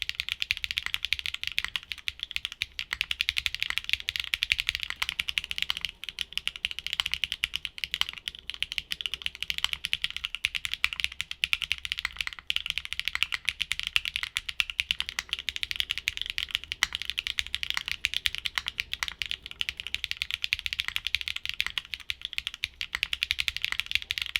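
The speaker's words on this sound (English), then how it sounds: "Here are back-to-back sound tests for these." Continuous fast typing on a mechanical keyboard, bright clacky keystrokes in a steady stream with no pauses or voices.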